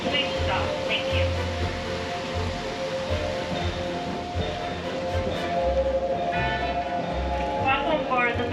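A Disneyland Resort tram in Anaheim rumbles and rolls along with steady low mechanical noise, brakes squealing faintly near the end as it slows and stops, with people chattering in the background.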